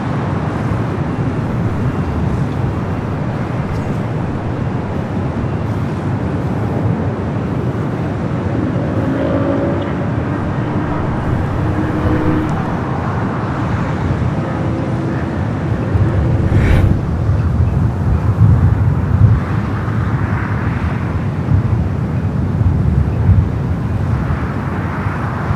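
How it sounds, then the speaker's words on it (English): A Virgin Atlantic Airbus A350-1000 rolls down runway 24 Left at LAX on takeoff, its jet engines producing a broad, sustained roar that swells slightly over the long stretch. "Virgin Atlantic, the A350-1000 heading back to London Heathrow, rocking and rolling down the 24 left"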